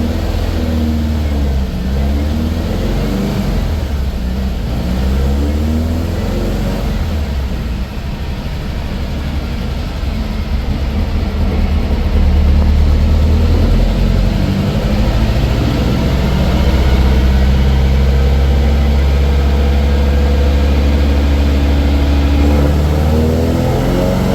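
A fuel-injected 1835cc Volkswagen engine revs hard on a chassis dyno, a loud continuous drone that climbs steadily in pitch through the run and holds strong near the end.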